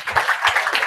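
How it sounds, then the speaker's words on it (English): Audience applause for a speaker at a retail conference: a brief, fairly loud burst of clapping from a crowd that rises and sways over about a second, with no talking. "Okay, round of applause."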